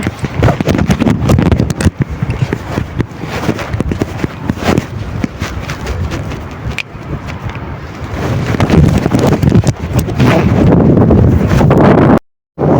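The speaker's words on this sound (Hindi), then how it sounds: "बड़ी तेज़ हवा गुल्ली है" Strong wind roars and buffets against the microphone on top of a large water tank, loud, steady and gusting throughout, with a brief dropout near the end.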